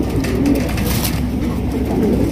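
A pair of spangle shallow pigeons coo continuously at close range, loud and steady with low rolling calls repeating throughout.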